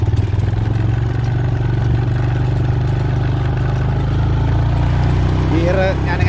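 A small vehicle's engine runs steadily as it drives near a pond, a constant low droning hum with gear changes, heard loud and close under someone talking throughout.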